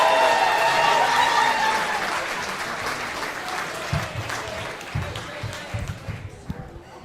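Applause from a comedy club audience at a stand-up show, a dense wash of clapping that starts loud and gradually thins and fades, with scattered individual claps near the end.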